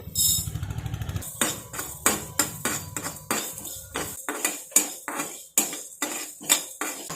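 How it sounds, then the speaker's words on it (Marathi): Cinnamon, cloves and fenugreek seeds being roasted in a pan for a spicy raw mango pickle, heard as a steady run of sharp metal scraping and clinking strokes from a spatula, fairly close, over a low hum at the start. "याच्यामध्ये दालचिनी, लवंग आणि मेथीदाणे हे सर्व आपण परतून घेऊयात."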